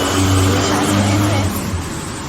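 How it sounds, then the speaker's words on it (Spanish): Steady street traffic of cars and motorbikes roars nearby, a car engine droning loudly as vehicles pass, with a constant broadband hum throughout. "mucho ruido de los carros, de las motos, pasa por el lado de uno"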